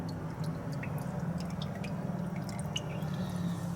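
Coolant water drips and trickles out of the engine block of a Mahindra 8560 tractor during a radiator flush, a steady close wet patter over a low running hum.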